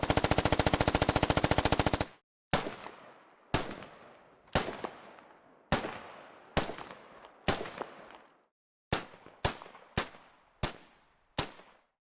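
Video game gunfire from Squad's M249 SAW and M110 marksman rifle: a long rapid automatic burst, then a series of single heavy shots with echoing tails, loud and without talk.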